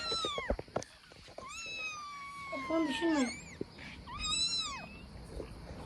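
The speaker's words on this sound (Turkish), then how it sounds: "yavru kediler" Kittens meow in several rising, thin cries, close by, while a person speaks briefly over them.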